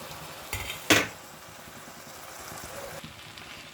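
Fried veg noodles are stirred in an oiled pan, with a low constant sizzle and a couple of sharp utensil scrapes and clanks near the start.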